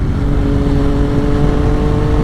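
A 2005 Triumph Sprint ST motorcycle's three-cylinder engine rumbles loud and close through its triple under-seat exhaust, a steady, throbbing idle-to-revving drone held unbroken with no talk over it.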